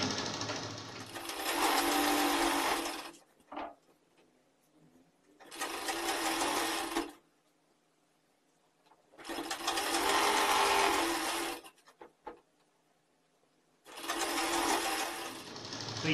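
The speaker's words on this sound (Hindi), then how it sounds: "तो इसको हम यहाँ पर सिलाई को शुरू करते हैं इस तरीके से यहाँ से" A sewing machine stitches the folded waistband of a ladies' pajama pant in four separate runs of rapid, steady whirring, each lasting a few seconds, with quiet pauses and faint handling clicks between them.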